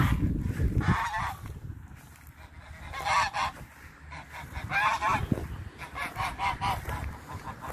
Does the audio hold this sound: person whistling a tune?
no